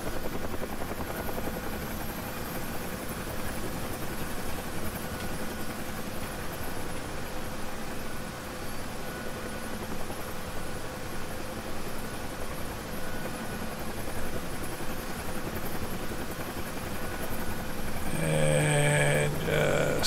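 A Huey helicopter in the DCS flight simulator settles in to land, its rotor and turbine producing a steady, loud, close whine and thrumming wash that continues for the whole stretch, with a brief rattling shake near the end.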